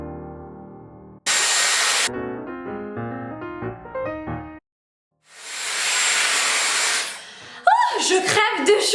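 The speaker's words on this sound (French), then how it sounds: "je vais venir un petit peu pré-sécher les cheveux ou les sécher directement" A Dyson Airwrap 2022 hair dryer blows a loud, steady airy roar in two bursts of a second or two each while drying hair. Talking or tonal sound fills the gaps between the bursts.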